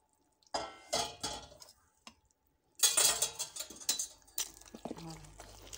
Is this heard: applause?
no